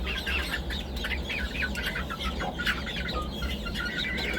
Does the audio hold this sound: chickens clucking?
yes